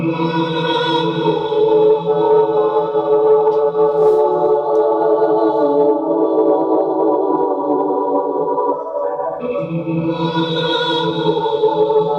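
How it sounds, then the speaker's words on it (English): About eight layers of looped vocals build a lush, sustained soundscape, a dense choir-like wash that holds steady, dips briefly and swells again. "To create a song, I layer many vocal layers so that it creates one lush soundscape."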